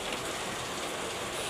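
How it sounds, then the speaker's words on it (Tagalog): Heavy rain pours down in a continuous dense hiss, loud and close with no letup and no voices. "Lakas ng ulan."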